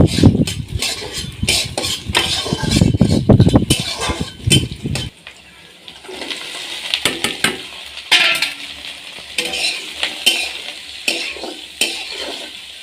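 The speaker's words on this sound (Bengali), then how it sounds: "কড়াতে পরিমাণ মতো তেল দিয়ে দেব। দিয়ে দেব দুটো শুকনো লঙ্কা, দুটো কুচানো পেঁয়াজ। হালকা ভেজে নেব।" Dried chillies and chopped onion fry in hot oil in a kadai, with a loud sizzle and spoon scraping for about five seconds before the sizzle drops to a softer crackle with occasional clinks.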